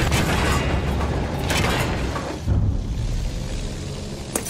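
A tank rumbles amid booming explosions in Battlefield 1 during an Austro-Hungarian Conquest match on Monte Grappa, a heavy, dense low roar with bursts of blasts and mechanical clatter, no talk.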